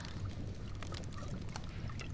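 Homemade herbal tea poured from a pot into a cup in a quiet cottage, a soft, steady stream of liquid heard up close with no voices.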